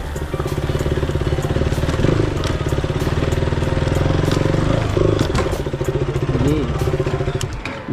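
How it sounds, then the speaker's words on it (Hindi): A motorcycle is ridden up onto a river boat at a ghat crossing, its engine chugging steadily and close throughout, with clattering and knocking as it climbs aboard. "तो मैं सीधे चढ़ाऊँगा बाइक अपनी"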